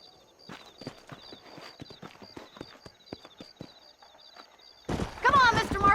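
Horses' hooves clip-clop in a rhythmic stream within the Red Dead Redemption video game near Armadillo, with a voice talking over them before a loud burst of noise near the end.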